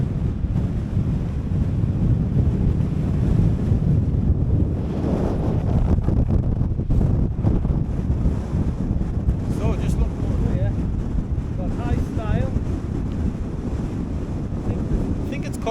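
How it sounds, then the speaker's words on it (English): Strong, gusty wind batters the microphone on the exposed hilltop of High Snockrigg in the Lake District, with a loud, continuous roar throughout and faint voices in the background. "It's really windy here."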